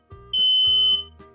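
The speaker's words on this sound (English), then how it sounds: "if you should ever hear the smoke detector sound" A household smoke detector gives a loud, piercing electronic beep, a shrill held tone repeating over a low background hum, with no talking.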